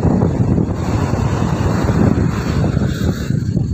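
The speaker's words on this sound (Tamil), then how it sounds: "இதுதான் நாகப்பட்டினம் கடற்கரை" Wind and surf roar at Nagapattinam beach on the Tamil Nadu coast, a steady loud wash of waves and buffeting wind against the microphone throughout, with no voices.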